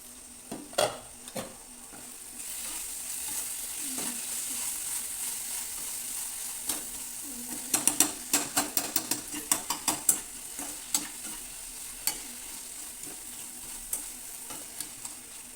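A spoon stirs and mashes vegetable curry in a pan, giving a continuous close sizzle with scraping strokes, then a run of sharp utensil taps against the pan in the second half; no talking.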